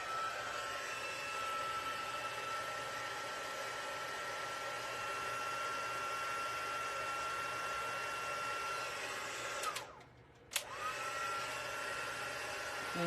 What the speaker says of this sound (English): And let's quickly heat emboss.